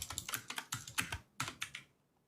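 Bursts of computer keyboard typing, sharp clicky keystrokes in short clusters with brief pauses, close-miked and trailing off into quiet at the end.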